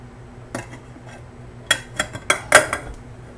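Metal pots and pans clank and scrape across a kitchen stovetop in a short burst of five or six sharp knocks, one faint bump first, then loud clustered clatter close by.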